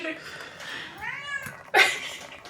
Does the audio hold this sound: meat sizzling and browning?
no